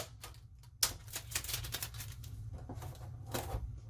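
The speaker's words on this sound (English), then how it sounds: "So I lay the tape across there" Packing tape is laid across and pressed onto a cardboard shipping package, giving close, crackly sticky pulls and soft presses in an uneven rhythm over a low background hum.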